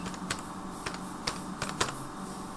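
Fingers typing a MySQL command on a computer keyboard, a string of distinct clicking keystrokes at an uneven pace, with a few sharper taps standing out against quiet room noise.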